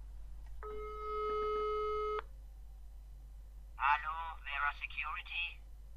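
A steady electronic telephone tone plays alone for a moment, followed by a burst of warbling ring tones, faint low hum throughout, from a phone call in the video game Broken Sword 5.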